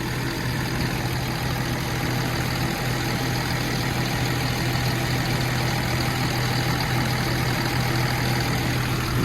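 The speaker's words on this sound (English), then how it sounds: "And then rev it up." A van engine with a fuel leak runs at a steady, loud, continuous hum close by, with no distinct revs standing out and no speech.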